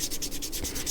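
Sandpaper of about 400 to 600 grit rubs with light pressure across a leather edge, a rhythmic scratchy back-and-forth of quick, even strokes close up.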